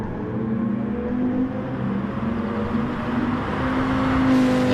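Race cars in a sim racing video game heading downhill into a hairpin under late braking, a steady droning engine hum with sliding pitch, one car close and loud, without voices.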